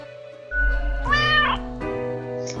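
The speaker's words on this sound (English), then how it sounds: "Cat emanates a delighted meow at the prospect." A cat in the video game Death and Taxes gives one clear, drawn-out meow that rises and falls, close and loud over a steady droning music bed, with a faint chirp at the end.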